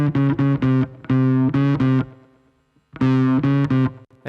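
A synth-and-bass mix in Pro Tools with a short delay adding space: loud, rhythmic bursts of distorted, buzzy tonal notes with harmonics, a gap of fading echo tails in the middle, then more punchy phrases.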